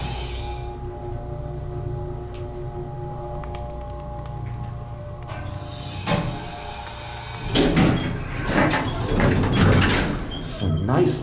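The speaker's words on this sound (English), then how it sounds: "I want to hear that motor going up." A vintage Houston hydraulic elevator's motor hums low and steady as the car goes up, with clunks and mechanical knocks building toward the end.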